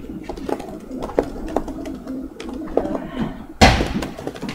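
Pigeons coo softly nearby as a pair suddenly lands on a tin roof with a loud, abrupt metallic bang near the end, louder than everything before it.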